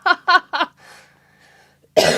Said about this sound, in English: I do have a lingering little bit of a cough